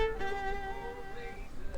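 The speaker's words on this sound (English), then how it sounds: "So in the violin, it sounds like this without any plugin." Dry, unprocessed violin stem from a song, a sustained bowed line with steady harmonic tones, fairly quiet and alone with no voices.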